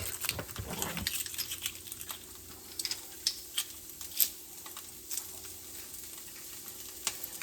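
Onions and pressed garlic fry in bacon grease, giving a steady faint sizzle with scattered pops and crackles, a brief clatter of food dropping into the pan at the start.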